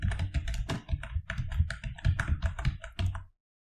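Close, crisp keystrokes on a computer keyboard as a database command is typed on a Windows 11 PC, a quick uneven run of clicks with no speech, ending abruptly in silence.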